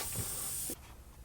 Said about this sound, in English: there is a chemical. It's a spray.